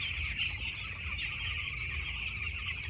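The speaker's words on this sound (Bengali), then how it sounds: "মুরগি মোটামুটি এখন ঠিকই আছে, মুরগির বাচ্চা ঠিকই আছে।" Chickens at a poultry farm cluck and chatter continuously in a dense, moderately loud flock, with no one talking.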